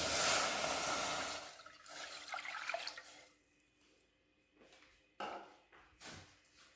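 Liquid poured from one vessel into milk in a pot while making Kashmiri pink tea: a rushing splash and stream at first, tapering into softer trickles and a few drips and light pot knocks.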